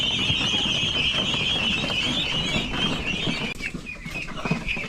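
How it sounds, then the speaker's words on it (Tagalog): A big flock of farm ducks being carried to a new area calls nonstop, a dense and close chorus of overlapping quacks and squawks that barely lets up. "Tara, samahan nyo ako sa paglilipat nito mga itik natin."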